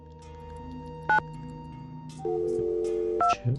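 Telephone keypad dialing tones in the Nancy Drew: Secret of the Scarlet Hand game, a few short beeps over a faint steady hum, followed by a longer held tone and more brief beeps.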